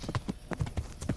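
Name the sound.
horse hooves clip-clopping, video game Kingdom Come Deliverance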